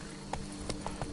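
Horse hooves clip-clop in The Witcher 3: Blood and Wine, four quick, evenly spaced hoof strikes at a trot, fairly faint over a soft ambient bed.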